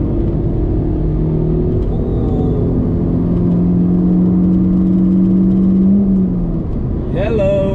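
A Proton Iriz 1.6L hatchback with a manual gearbox pulls hard after an upshift, its engine drone loud and close as it climbs steadily in pitch, then eases off near the end.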